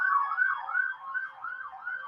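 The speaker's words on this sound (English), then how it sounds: "There's a siren going by, apologies." A passing emergency vehicle siren wails in repeated rising and falling sweeps, steady and moderately loud, with no talk over it.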